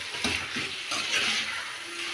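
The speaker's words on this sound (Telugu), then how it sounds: "ఇప్పుడు చూడండి ఇది బాగా కలుపుదాము." Taro pieces stirred into a spiced mixture in a pan, giving a soft, steady sizzle with scraping stir strokes close by, with no talking.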